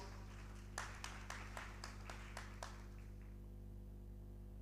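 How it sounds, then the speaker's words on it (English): A handful of scattered claps from the audience at a youth empowerment summit, a few distinct hits over a steady low hum, tapering off after a couple of seconds. "Give him a round of applause."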